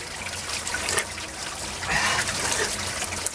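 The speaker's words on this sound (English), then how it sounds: "Found this natural spring runoff right here in the middle of the rock" Natural spring runoff trickles over rock in a desert mountain setting, a close, steady watery dribble with brief gurgling swells, alone without talk.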